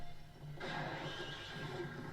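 Horse whinnying in a scene from Beneath the Planet of the Apes, one long shrill neigh that bursts in after a quiet moment and rings out for over a second.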